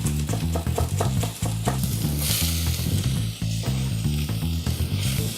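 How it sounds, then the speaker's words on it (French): Onions and carrots sizzling in a pan for vegetable lasagna, a loud close frying hiss with rapid rhythmic stirring clatter running throughout, no talk. "Donc tu vas faire revenir tes oignons."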